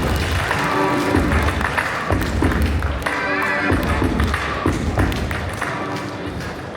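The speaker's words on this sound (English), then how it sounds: "Everyone, please give a round of applause for Zac Williamson." An audience at the Token2049 crypto conference applauds a speaker coming on stage, a dense sustained clapping with thuddy hand hits that fills the hall for several seconds before gradually easing.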